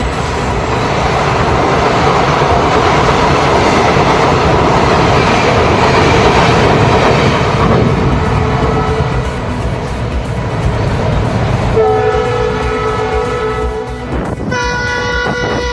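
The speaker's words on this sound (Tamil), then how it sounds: "பாம்பன் புதிய பாலத்தில் 110 கிலோமீட்டர் வேகத்தில் ரயிலை இயக்கி சோதனை." A test train crossing the new Pamban rail bridge at 110 km/h gives a loud, continuous rumble and rush of wheels and wind, which shifts near the end to steadier tonal machinery hums as it passes close by.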